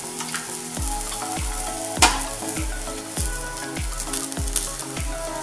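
Garlic and green chillies sautéing in a hot pan for Kolhapuri mirchi thecha, a continuous sizzle with regular spatula knocks against the pan about every half second.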